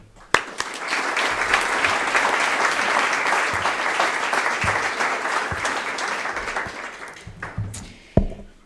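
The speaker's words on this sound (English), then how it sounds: "Let's give a round of applause for Willem." An audience at a school tea fundraiser claps for Willem, a full round of applause that swells quickly, holds steady for several seconds and then tapers off, ending with a couple of sharp knocks.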